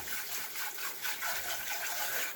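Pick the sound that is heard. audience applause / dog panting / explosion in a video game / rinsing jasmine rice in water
rinsing jasmine rice in water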